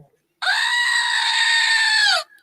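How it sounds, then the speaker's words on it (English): A screaming goat toy lets out one long, loud, sustained bleating scream lasting nearly two seconds, close up, after a brief moment of quiet. "It's our screaming goat."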